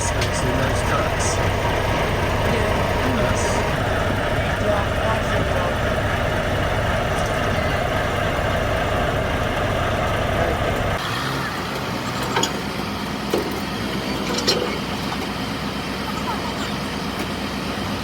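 Large trucks idle with engines running at a narrowboat crane liftout, a steady low diesel rumble that drops off partway through, leaving lighter background noise with a few clanks.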